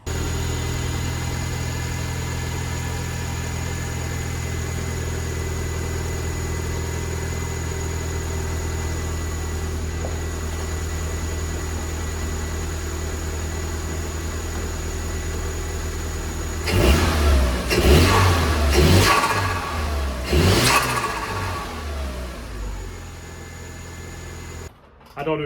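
Renault Megane fitted with a custom intake, idling with a steady low hum, then revved in several sharp bursts, loud and close, before settling back toward idle.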